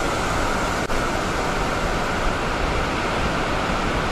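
A waterfall in dense Andharban forest roars as a constant, loud, broadband rush with no breaks and no voices.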